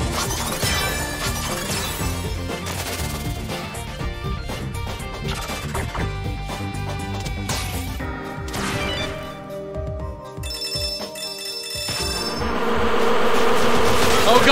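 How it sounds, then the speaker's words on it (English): Swarming bees buzz continuously in the video game Freedom Planet 2, loud and close amid shattering crashes and busy game effects that build toward the end. "God, bees!"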